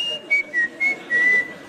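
A man whistles a wolf whistle in several short, bright bursts, rising and falling pitches with brief gaps, close and fairly loud with no talk.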